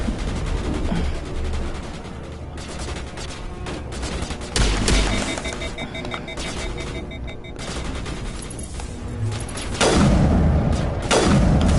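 Combat in the Mass Effect Legendary Edition video game, with continuous gunfire and booms, a heavy grenade blast near the middle and further loud bursts near the end.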